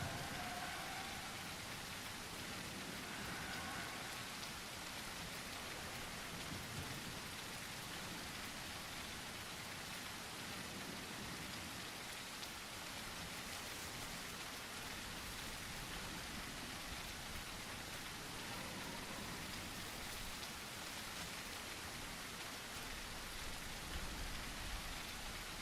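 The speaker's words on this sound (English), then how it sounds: "The rain brings both sustenance and danger." Heavy rain of large, loud droplets falling freely across an island in The Isle video game, a dense steady hiss that continues unbroken and without voices for the whole stretch.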